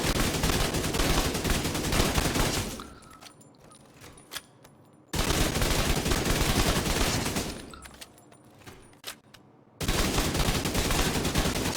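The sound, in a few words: gunfire from a video game shooter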